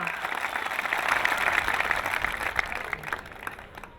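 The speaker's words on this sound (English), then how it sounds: "I think he needs a big round of applause." Crowd at a UAE Labour Day event applauds after a tribute to Sheikh Khalifa bin Zayed Al Nahyan, a full, steady roar of clapping that swells, then slowly thins toward the end.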